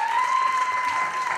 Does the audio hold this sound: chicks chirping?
no